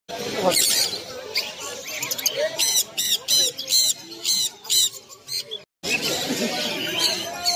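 Rosella parrot at a pet market on Galiff Street, Kolkata, giving repeated sharp, harsh squawks and chirps in uneven bursts, with market chatter and voices running underneath and a brief gap near the end.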